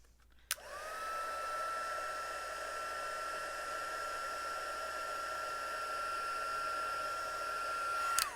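A heat tool blowing hot air to melt embossing powder on a stamped moth craft project switches on with a click, holds a steady fan roar with a high whine for about eight seconds, then clicks off.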